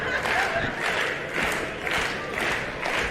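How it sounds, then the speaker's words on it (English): Wrestling arena crowd at an AML title match roars and chants for Billy Brash, loud surging cheers rising and falling in rhythmic waves about every half second, dense and close. "The crowd getting behind Billy Brash now."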